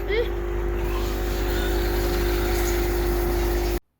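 Arrma Kraton 8S RC car running laps around an outdoor raceway, a loud, steady motor whine and drone that holds for about four seconds before cutting off abruptly.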